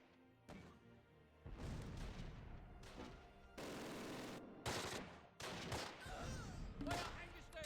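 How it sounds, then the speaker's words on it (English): Gunfire in a Close Combat video game battle, several separate bursts and volleys with short quiet gaps between them, some sharp cracks and heavier booms, all fairly loud. "don't save ammo, keep shooting"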